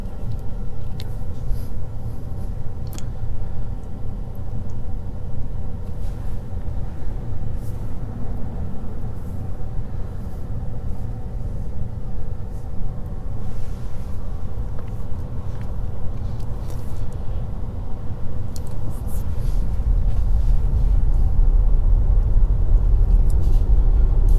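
Tesla Model Y moving through city traffic on its own, giving a quiet steady road and tyre rumble from inside the cabin with faint ticks and clicks, and a low thump building near the end.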